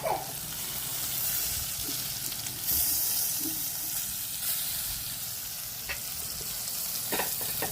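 Tomato curry in a nonstick pan bubbles and sizzles after tamarind juice is poured in, a steady close hiss with occasional small pops and stirring clatter.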